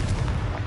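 Confringo blasting spell exploding in the video game Hogwarts Legacy: one short, deep, booming burst with a rumbling low end, loud and close, with no other sound around it.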